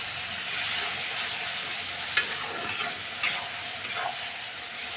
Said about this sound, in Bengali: এবার একটু কষিয়ে নেবো ভালো করে।